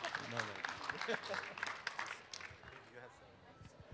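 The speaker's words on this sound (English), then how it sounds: "Round of applause." A small audience at an elevator pitch competition gives brief, thin applause after a pitch, a few scattered claps that fade out.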